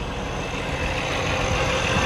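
A 2016 Peterbilt 579 truck's engine idles steadily: a continuous, loud, broadband diesel rumble with no change in pitch or level.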